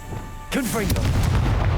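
A Confringo spell goes off in Hogwarts Legacy with a sudden loud blast, then a rising, warbling magical whoosh and a heavy low rumble that holds to the end, over a faint background hum.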